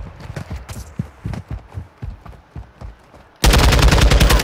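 Gunfire in Call of Duty: Modern Warfare 2, a run of sharp, separate shots cracking at an uneven rhythm, followed by a sudden loud, dense burst of sustained automatic fire that fills the end.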